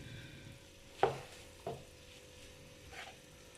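Chicken mince is stirred in a pan over a raised flame. A few faint spatula scrapes and knocks sit over a quiet, low sizzle, close by but soft.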